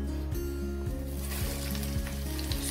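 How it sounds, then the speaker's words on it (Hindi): Curry leaves fry in a spoonful and a half of ghee in a hot pan while making rasam, giving a steady close sizzle under background music. "सो करी पत्ते को घी में फ्राई करना है।"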